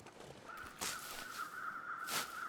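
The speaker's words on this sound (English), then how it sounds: "Okay, so those are the crows right there." Crows caw in the survival game The Long Dark, with two or three harsh calls standing out over a steady high tone and quiet outdoor ambience. The calls are moderately distant and come alone, without talk.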